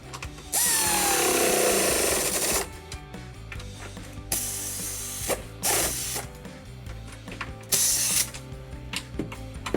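A ratchet tightens the snorkel bracket bolts on a Jeep Gladiator JT fitted with a Flowmaster Delta Force cold air intake, giving loud, close bursts of rapid clicking separated by short pauses, with no talking.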